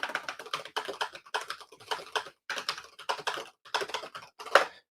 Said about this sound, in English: Man, this keyboard's loud.